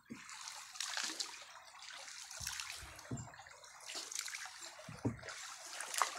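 Water trickling and splashing in a large, overgrown creek, with uneven gurgling bursts close by and no talking.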